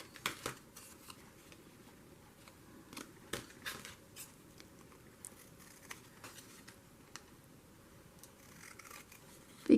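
Paper being trimmed for a journal with scissors: faint, scattered snips and light paper rustles at close range in a quiet room, ending with one sharper click.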